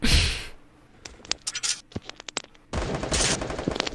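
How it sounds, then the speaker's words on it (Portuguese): Rapid bursts of P90 gunfire in the Free Fire mobile game, crackling in dense volleys at the start and end with scattered sharp single shots between, loud and close, with no talk. "Ah, P90 foi mais tiro que tudo, Beto."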